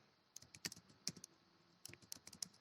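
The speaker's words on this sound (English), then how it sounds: "typing the characters here." Keys clatter on a computer keyboard during Python coding, quiet and close, in two irregular bursts of rapid clicks separated by a short pause.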